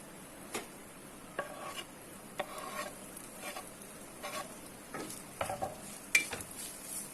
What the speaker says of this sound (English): So while the ginger, garlic and onions are frying,